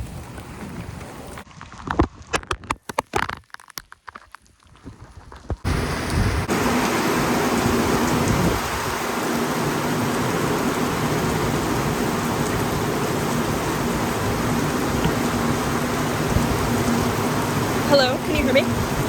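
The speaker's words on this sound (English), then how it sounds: "I'm walking in a field and it's pouring rain." Pouring rain falls over an open field, first under scattered crackling and rustling handling noises, then settling into a dense, steady, close hiss that continues to the end.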